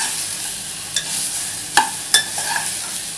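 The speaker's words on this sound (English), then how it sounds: "mix them well" Vegetables including cauliflower being stirred in a hot pan for veg chop suey, a soft steady sizzle punctuated by a few sharp spatula scrapes and clacks against the pan, close and without talk.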